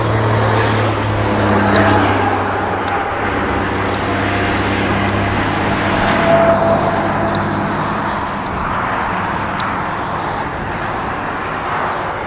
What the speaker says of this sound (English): Yep, here comes the traffic.